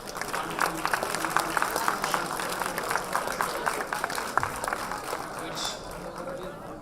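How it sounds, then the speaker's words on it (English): Applause from the audience at a law college convocation in Bengaluru, many hands clapping steadily for several seconds, fading slightly toward the end, with voices in the background. "A round of applause for giving us wonderful"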